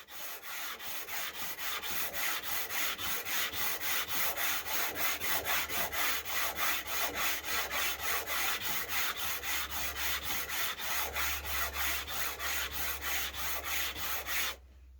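Wood rubbed with a 14 radius sanding block in rapid, even back-and-forth strokes, a close rhythmic rasp that runs steadily for the whole stretch before stopping abruptly, with no voices.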